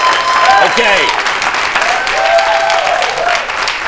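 Continuous studio-audience applause welcomes young guest Carter and his mother Linda on a talk show, dense and fairly loud, with voices and whoops mixed into the clapping.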